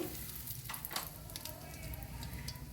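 Curry leaves sizzling in hot oil with mustard seeds and urad dal for vermicelli chitranna, a soft steady frying hiss with a few brief crackles, close but fairly quiet.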